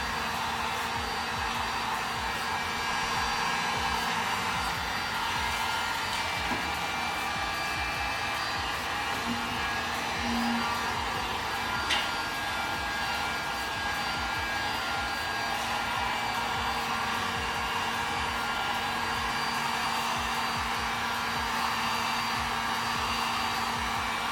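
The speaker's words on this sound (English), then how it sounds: "I would recommend heating after each pass to make sure your paint is still warm, it doesn't chip off." A heat gun blows steadily while it warms the painted fender edge, giving a constant loud whooshing drone that runs unbroken throughout with no talking.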